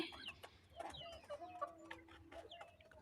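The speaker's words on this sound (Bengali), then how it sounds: "কয়েকটা মুরগি কিন্তু হালকা করে ডাক দেয়" Several desi chickens cluck softly and intermittently nearby while feeding on a small village farm, low murmuring calls with a few higher notes, in an otherwise quiet setting.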